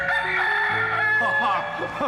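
A rooster crows loudly and close by, a drawn-out strained call with wavering pitch, while something else clucks faintly underneath.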